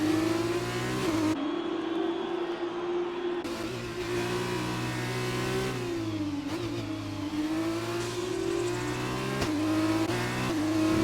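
Race car engines drone and rev steadily on a track in a racing video game, a continuous loud whine with pitch rising and falling through gear changes and corners, with no talk over it.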